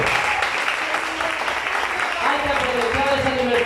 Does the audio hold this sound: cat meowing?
no